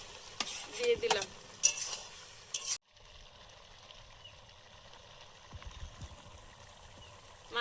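Fish curry with spring onion leaves and garlic leaves being stirred in a pan, with a soft continuous sizzle and scraping of a spoon, louder clattering strokes early on, then a steady low bubbling hiss.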